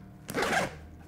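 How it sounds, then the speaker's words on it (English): A zipper on a Nomatic backpack, the Peter McKinnon collaboration model, is pulled in one quick, close, rasping sweep lasting under half a second, followed by quiet. "So these zippers are probably one of my favorite things of the bag."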